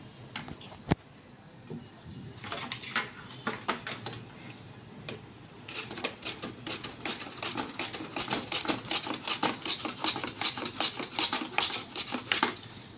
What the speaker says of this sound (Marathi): तर अशा छान चिपा पाडून घ्यायच्या पातळ पातळ.